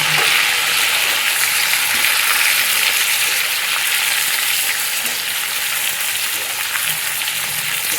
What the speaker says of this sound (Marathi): आपल्याला फक्त कारली घालून आपल्याला चांगलं असं हे तेलामध्ये ना परतून घ्यायचं